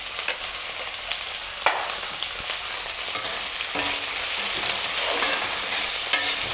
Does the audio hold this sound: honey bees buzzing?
no